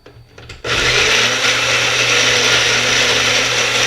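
Chipotle peppers, adobo sauce and chili steeping water are mixed in a blender, which kicks on after a brief quiet moment and then roars loudly and steadily to the end.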